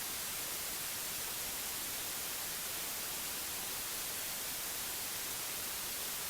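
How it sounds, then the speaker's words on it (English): White noise test signal: a steady, uniform broadband hiss, bright and constant for several seconds with no variation, pauses or other sounds. "I guess the white noise must be actually not as good as the same frequency"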